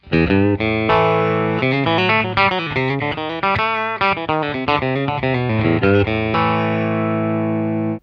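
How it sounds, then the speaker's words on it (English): An electric guitar plays a bright, twangy run of notes through an amp alone with no pedals, a touch of grit, ending on a sustained ringing chord; close and loud. "here's the sound of just the amplifier on its own"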